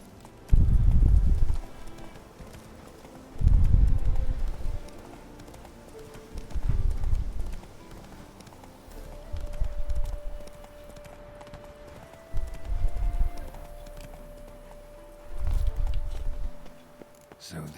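Roach, Geralt's horse in the video game Witcher 3, clip-clops in six evenly spaced bursts of hoofbeats, each about a second long with pauses between, close and moderately loud over a faint steady background tone.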